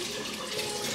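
Water running steadily from a kitchen tap while meat is washed with lime, a continuous close hiss and splash with no pauses.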